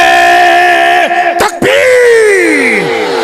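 A large gathering at a religious speech roars back a loud, sustained chanted slogan response, many voices bellowing together with a brief break in the middle before the shout resumes.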